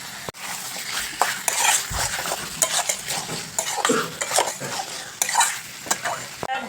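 Chicken pieces fry in a hot pan with Kashmiri chilli powder, giving a steady close sizzle. A spoon stirs through them again and again and scrapes or knocks against the metal now and then.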